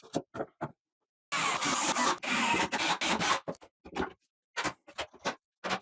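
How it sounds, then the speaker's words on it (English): Pocket screws are driven into wooden mudroom hall tree parts with a drill, heard as short bursts and a longer whirring run of driving, separated by brief pauses and clicks. "drive in all of our pocket screws and move on down the line"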